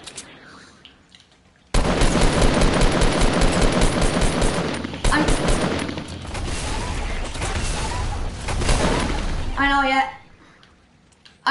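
Rapid bursts of gunfire from a Fortnite firefight, loud and sustained for several seconds before cutting off, with voices talking over the shooting.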